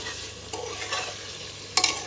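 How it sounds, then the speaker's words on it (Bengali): Spices frying in a pan for a tripe curry give a steady close sizzle, with two sharp spatula scrapes against the pan. "সেজন্য মশলা এগুলো ভালোভাবে ভেজে নিচ্ছি"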